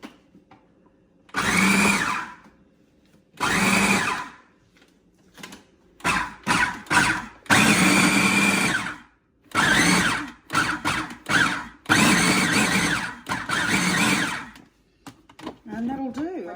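Food processor pulsing spring roll filling into small chunks, a series of short loud whirring bursts separated by pauses, some longer than others, with faint sound at the end.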